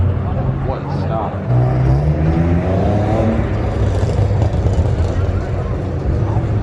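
A Nissan 350Z with a muffler delete drifts on a canyon road, its engine droning and rising in pitch as it revs, loud and close from inside the car, with voices talking over it.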